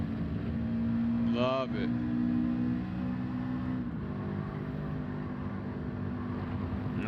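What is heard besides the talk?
boxer engine car driving uphill in the video game Gran Turismo 7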